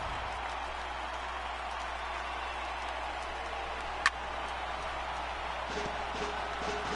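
Steady stadium crowd murmur from a sold-out ballpark crowd of about 56,000 in Los Angeles in MLB The Show 18, a constant wash of distant noise with one sharp tick partway through.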